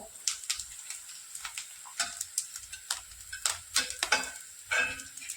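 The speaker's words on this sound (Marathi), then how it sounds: "उलटपालट करून आपल्याला ह्या चकल्या तळून घ्यायच्या आहे" Sago potato chakli fry in oil while being turned, heard as a soft sizzle broken by sharp clicks and scrapes of a utensil, fairly close and irregular, with no talking.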